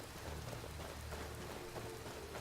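Steady rain falls in the Skyrim Requiem video game with obsidian weather, a dense, even hiss of drops on surfaces, continuous and moderately loud with no voices.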